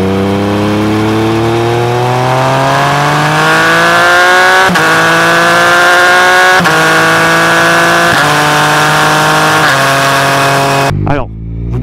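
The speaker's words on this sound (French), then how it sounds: "le bruit du 3 cylindres, oh là là, et surtout avec le shifter" Three-cylinder motorcycle engine with a quickshifter accelerating hard through the gears, a loud close rising howl cut by crisp, rapid upshifts about every two seconds, ending in a sharp pop and sudden drop.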